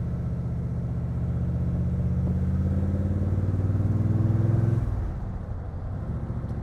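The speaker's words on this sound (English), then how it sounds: "The engine's cold, so we're going to let it warm up a little bit." Cold 6.6-litre engine of a Crendon Cobra idling while warming up: a steady, low, throbbing rumble that swells slightly, then drops back to a quieter idle.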